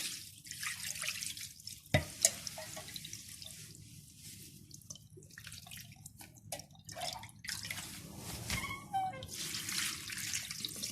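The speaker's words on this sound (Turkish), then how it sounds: "Şimdi bol suyla nanelerimi yıkayacağım." Plenty of running water pours over fresh mint leaves in a kitchen strainer to wash them. A steady, close rush and splash continues throughout, with brief drips and spatters over it.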